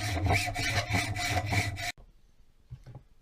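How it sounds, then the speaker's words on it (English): A hacksaw cuts through metal bar stock with rapid, loud back-and-forth rasping strokes close by, then stops abruptly, leaving near silence broken by a faint clink. "I'm going to go ahead and start cutting it with this hacksaw"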